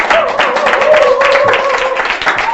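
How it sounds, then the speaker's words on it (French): A television studio audience claps and cheers in a dense, continuous burst of applause, with a faint steady tone running underneath. "On applaudit très fort Bob Junior."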